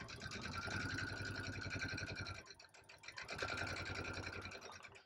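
A sewing machine stitches a 1/4-inch quilt block seam, running steadily with a fast, even mechanical whir for over two seconds, pausing briefly, then resuming at the same close, quiet pace.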